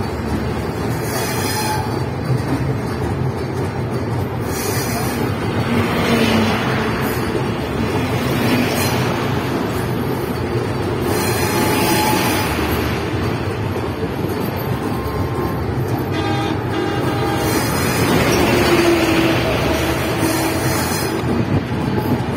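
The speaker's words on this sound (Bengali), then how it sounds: "আমি ট্রেনে আছি, দ্রুতযান ট্রেনে, ঢাকা থেকে পশ্চিমবঙ্গ" Continuous loud rumble and rattle heard from inside the Drutajan Express as it crosses the Bangabandhu bridge over the Jamuna river, a dense steady roar of wheels and carriage noise throughout.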